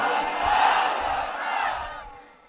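A large crowd at an Islamic sermon (waz) in Bangladesh chants takbir in unison, a loud, sustained roar of many voices that rises and then fades out at the end.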